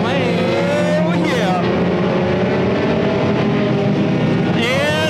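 Race cars in an enduro race at Irwindale roar past continuously and loudly, engines whining and shifting as the pack funnels toward the start-finish line, while a commentator talks over the noise.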